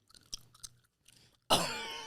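Someone chewing food up close, a run of soft, irregular mouth noises and crunches, then a sudden louder, sustained noisy burst.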